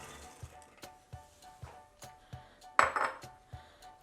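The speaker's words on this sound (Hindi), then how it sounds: "इसमें सबसे पहले ये सोख किए हुए राजमा डालूँगी।" Soaked kidney beans go into a pressure cooker on a gas stove, giving a string of light metallic clinks and taps at a regular pace and one louder clatter near the end, close and fairly quiet.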